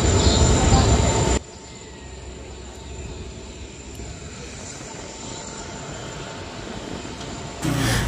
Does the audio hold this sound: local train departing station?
yes